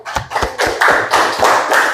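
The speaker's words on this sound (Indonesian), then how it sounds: "Kita kasih tepuk tangan untuk kelompok 3." A small group of students in a classroom claps for a short moment, a quick burst of sharp, uneven hand claps close by with no talk.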